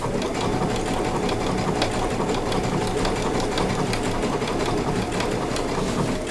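A sewing machine stitching applique runs in a loud, continuous, steady whir with a rapid mechanical rhythm, close up and uninterrupted, with no voices.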